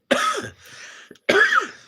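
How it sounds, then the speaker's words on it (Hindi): A person with a cold coughs twice, each a harsh, loud burst close by, separated by a quieter rasping breath and a brief pause. "सर्दी खांसी धरे जी"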